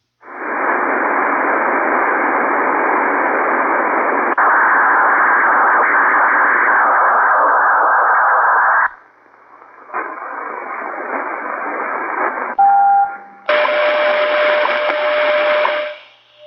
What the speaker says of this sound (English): So I think we're gonna really have more of those radar and all sorts of noises